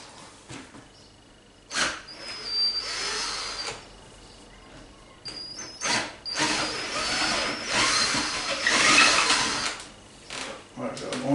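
Drill whirring in short bursts while enlarging a hole to recess a nut, high-pitched spinning spells separated by pauses and clatter, fairly close.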